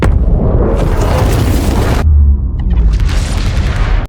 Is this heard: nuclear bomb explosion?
yes